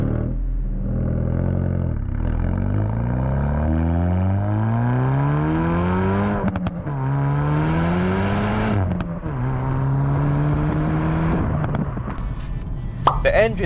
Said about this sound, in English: The engine in which this boisterous, raucous exhaust is attached to is a 2-litre turbocharged 4-pot